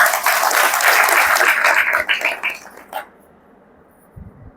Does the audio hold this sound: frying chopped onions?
no